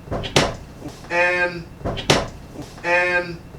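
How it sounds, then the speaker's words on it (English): Two sharp, loud knocks on a door in cabin B340 aboard the Queen Mary during a paranormal investigation, spaced about two seconds apart, each followed by people talking. "That was a loud knock."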